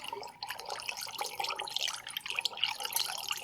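Cold water poured into a jug of hibiscus blueberry honey mead, giving a steady splashing, trickling pour that runs close and fairly quiet throughout.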